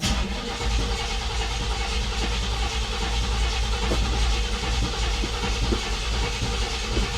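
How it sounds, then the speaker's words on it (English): An old lowrider car cranks and churns as its engine tries to catch, a loud, rough, continuous mechanical grinding with uneven pulses close to the microphone. "these old cars, man, it take a while to turn on sometimes"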